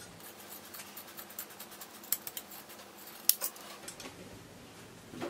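Scissors snipping through fabric while cutting out a skirt for a corset, faint scattered blade clicks and soft rustling in a quiet room, with a few sharper snips standing out.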